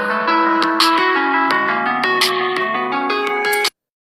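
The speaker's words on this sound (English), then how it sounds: "That's an old ringtone." An old phone ringtone, a bright electronic melody of sustained layered tones with percussive ticks, plays loudly for several seconds and then stops abruptly into silence.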